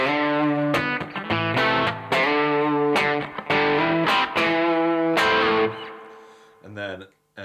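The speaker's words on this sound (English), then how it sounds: "the red side is in here, which I use as sort of the lightish gain overdrive" An electric guitar runs through the red side of an Analogman King of Tone overdrive pedal set for light gain, playing crunchy chords and notes with some pauses, ending on a few quieter plucked notes.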